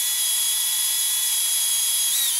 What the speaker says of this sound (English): So I'm just drilling that out right now.